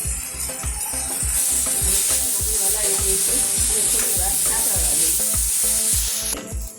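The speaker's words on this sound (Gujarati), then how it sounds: "આપણું વેજીટેબલ બધું સતળાઈ ગયું છે" Vegetables sautéing with spices in a pan for Gujarati bajra khichdi, a steady loud sizzle with rhythmic stirring scrapes running throughout, with no voices.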